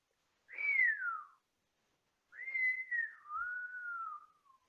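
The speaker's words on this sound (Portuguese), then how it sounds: "Meu pai assobia." Two long whistled notes from a person, each gliding downward, the second drawn out longer, clear and alone against silence.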